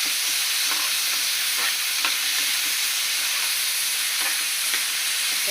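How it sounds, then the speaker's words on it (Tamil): Ivy gourd (kovakkai) sizzles as it is stir-fried in a pan, a loud continuous hissing fry with faint scraping stirs at irregular moments throughout. "போட்டு நல்லா இப்படி வதக்கிடுவோம்."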